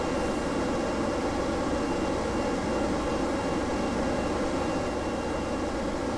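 A jet truck in Kerbal Space Program roars with a steady, loud, unbroken engine rush that holds constant throughout, with no talk.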